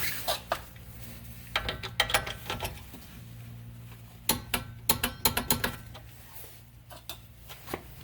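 A torque wrench or ratchet tightens the rear strut nut on a 2013 Chevrolet Impala, with close, sharp clicking bursts in short irregular runs over a low background hum.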